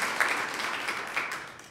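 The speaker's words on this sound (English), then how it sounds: "yes, you should applaud" An audience applauds at a Phi Theta Kappa college ceremony at Merritt College, giving a brief, steady wash of clapping from many hands in a room.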